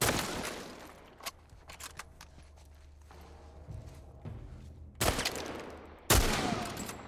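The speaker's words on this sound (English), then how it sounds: "Why aren't those shots landing?" Gunfire in The Last Of Us game sounds as a few sharp bursts, with a quick run of shots early on and two loud blasts near the end over quieter shuffling.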